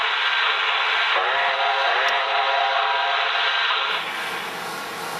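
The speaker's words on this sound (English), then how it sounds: "You're going to see the train go around, go out, come back in the other direction" A model train runs around its track loop with a steady, loud whirring hum from its motor and wheels that carries on evenly and then softens slightly toward the end.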